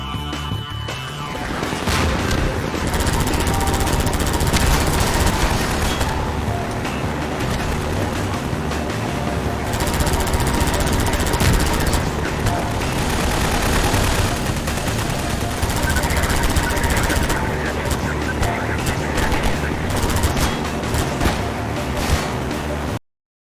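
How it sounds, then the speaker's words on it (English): Gunfire rings out in Half-Life 2 played in VR, moving through City 17: dense, continuous bursts of shots and rattling automatic fire mixed with a steady mechanical hum, loud and sustained throughout. "Who's shooting?"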